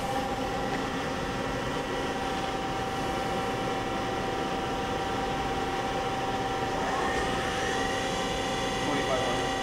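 2012 AWEA 5-inch CNC table-type horizontal boring mill with its spindle turning at 1000 RPM, a steady loud mechanical whine with sustained tonal hum, continuous and unchanging, close by.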